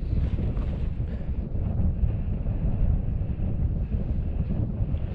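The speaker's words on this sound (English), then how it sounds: "That wind has dropped, but it's still a fair breeze, probably about 15 mile an hour" Strong, steady mountain wind at 3,750 ft in blizzard conditions buffets the microphone with continuous low rumbling gusts, loud and unbroken throughout with no voices.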